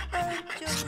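Brief scratchy rasping strokes, close up, sandpaper rubbed back and forth over a silver spoon in a workshop, two short passes.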